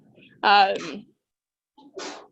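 A single sneeze in a lecture classroom: a sharp voiced burst that breaks into a noisy rush, followed after a pause by a second breathy, sneeze-like burst, all fairly close and without talk.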